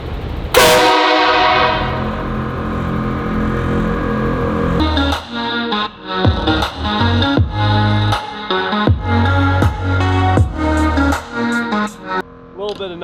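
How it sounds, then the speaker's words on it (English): Aftermarket train horns on a lifted 2021 RAM Limited pickup blast one loud, sustained chord for several seconds, followed by rhythmic music. "I will demonstrate the train horns"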